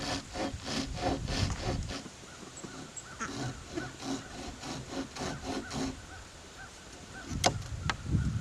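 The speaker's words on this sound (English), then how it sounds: "I'm going to cut a hole or a line here at an angle that meets that line that I cut." A small saw cuts an angled notch into a wooden stick for a homemade whistle, giving quiet rhythmic rasping strokes in bursts with short pauses between.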